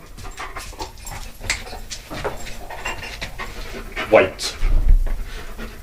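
A protection dog pants steadily near the front door of a home while someone answers the doorbell, its rapid breaths running throughout with brief whimpers and a person speaking over them.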